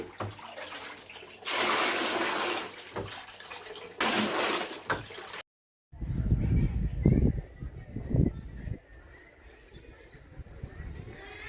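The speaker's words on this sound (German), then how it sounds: "jetzt hier ganz schnell zwischendurch Wasser auffüllen" Water rushes and splashes into containers in a rural jungle-garden setting, a loud gushing flow in bursts, cut by a brief gap, with a voice talking and cattle mooing nearby.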